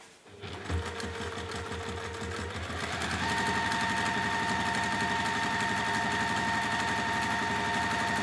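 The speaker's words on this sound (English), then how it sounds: "I am just going to top stitch down" A sewing machine top stitching a bowling bag hums continuously and close, starting up after a brief pause and settling into a steady, slightly faster whir, with no voices.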